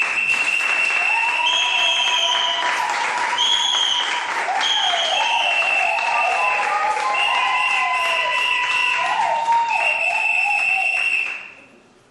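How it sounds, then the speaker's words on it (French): Wedding guests applaud under festive music with melodic lines, the clapping continuing steadily for about eleven seconds before fading out. "Nous allons les applaudir très très fort."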